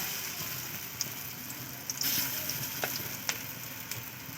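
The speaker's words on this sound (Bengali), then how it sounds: "আবারও সবগুলো ভেজে নিচ্ছি" Elephant foot yam fritters frying in hot oil give a steady, close sizzle with scattered pops and crackles, heard alone with no voices.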